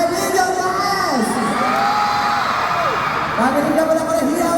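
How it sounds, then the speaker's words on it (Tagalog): A mall-tour crowd at a fan event screams and cheers loudly and continuously, with high children's and young fans' shrieks rising and falling in sustained waves. "Pabilig ako ng hiyawan for Emilio Diaz!"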